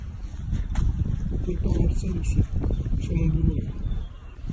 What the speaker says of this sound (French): Je vais vous montrer la force du vent.